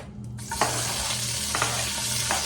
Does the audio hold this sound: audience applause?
no